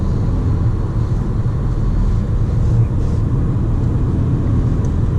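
A 2012 Volkswagen Golf GTI 35 Edition on the move: a steady low road and engine rumble with tyre noise fills the cabin at a constant, fairly loud level, without clear speech.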